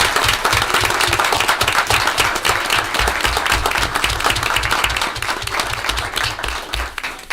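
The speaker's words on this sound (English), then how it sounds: "Let's give these guys a round of applause before we start." Loud, dense applause fills a township committee work session for the Wyckoff Pee-wee football team, Bergen Junior Football League Super Bowl champions, with a rapid, even clatter of many hands and a low rhythmic thumping underneath.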